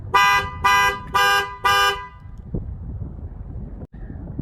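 A Chevrolet GM key fob's alarm button sets off the car horn: four loud, evenly spaced honks in quick succession, then the alarm falls silent, leaving faint background noise.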